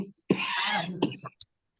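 One harsh, drawn-out cough rasps close up, followed by a short throaty catch and a brief sharp sound, then silence.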